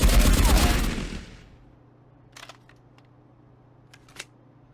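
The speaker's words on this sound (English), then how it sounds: "Hip firing with recoil control." A loud automatic burst of hip-fired gunfire with recoil control comes from the Marauders video game, cutting off after about a second and trailing into a fading ring, followed by a few faint clicks.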